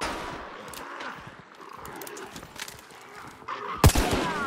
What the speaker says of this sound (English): Sniped him.